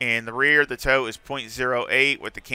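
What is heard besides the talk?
No everyday noise stands out behind the speech.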